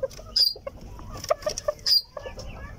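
Polish hens and a Polish rooster in a backyard coop give short, fairly close clucks and higher squawking calls, scattered irregularly over a quiet background.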